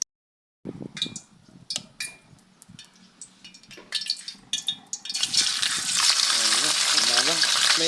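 Daing na bangus, marinated milkfish, is laid piece by piece into a hot oiled pan, giving scattered clicks and spits before turning into a loud, continuous sizzle of frying fish, heard up close.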